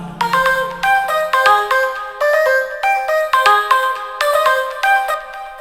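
Sequenced synth notes from the Native Instruments Glaze 2 software instrument play a bright, bell-like repeating pattern of plucked tones with a low drone at the start, loud and steady with no voices.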